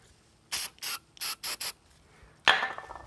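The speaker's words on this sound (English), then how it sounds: "We're gonna go ahead and spray some starting fluid in there." Starting fluid sprayed into a moped engine's intake, heard as five short, close hissing aerosol bursts in quick succession, followed by a louder, rougher rush of sound.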